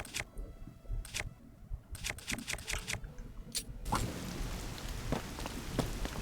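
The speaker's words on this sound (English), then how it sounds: "During rainstorm, not a good time." Rain patters during a rainstorm in the video game Zelda: Tears of the Kingdom, with scattered sharp taps and clicks over a soft hiss that thickens into steadier rainfall partway through.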